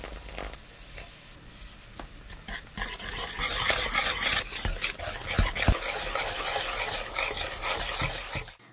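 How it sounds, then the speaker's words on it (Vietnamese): Batter of flour, egg, milk and soda water being stirred in a large bowl, a continuous close scraping and swishing with a wet, fizzy texture that builds slightly midway. "1/3 số bột này thì mình trộn làm bột ướt. Cho thêm một cái trứng vào. Và 100ml sữa. 120ml nước soda."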